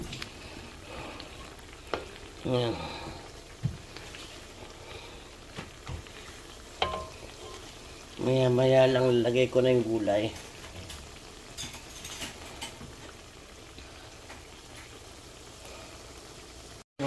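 Corned beef in tomato paste simmers in a pan with a soft, continuous bubbling and faint sizzle, plus a louder stirring burst midway; a person speaks briefly over it.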